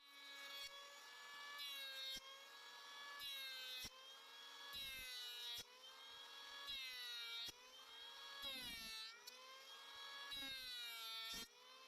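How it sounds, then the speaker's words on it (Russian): A tool cuts a chamfer along the edge of a wooden mini ironing board, a steady, faint, whining scrape in repeated passes of about two seconds, with no talk. "Сейчас сниму фаску."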